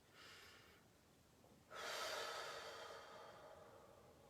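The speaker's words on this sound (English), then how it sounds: "So as you breathe out" A soft breath is drawn during qigong breathing practice, followed by a longer, airy, slow exhale that fades gradually, close and quiet in a still room.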